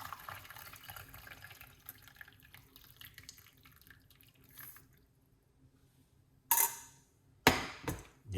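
Moringa tea spiced with cloves and pimento seed poured out into a cup: a soft liquid trickle at first, then a quiet pause, then two louder splashing pours close by.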